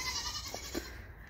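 A Nigerian Dwarf goat in a suburban backyard gives two short, faint bleats over steady background noise.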